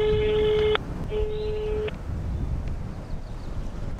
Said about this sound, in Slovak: Tak to musím zavolať prvému človeku v telefónom zozname.